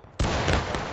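A Civil War-era field cannon in the multiplayer game War of Rights fires as a single sudden, loud, close boom. The blast is followed by a rumbling, crackling tail that fills the rest of the moment.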